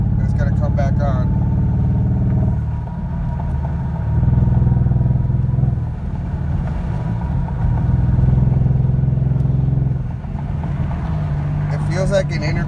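Kia Stinger engine with a check engine light fault and suspected loose intercooler piping, droning steadily and swelling in mild revs as the gas is pressed and released, heard from inside the car.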